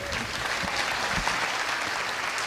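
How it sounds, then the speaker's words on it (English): A crowd applauds steadily throughout, a continuous wash of many hands clapping at a steady level. "Give a round of applause."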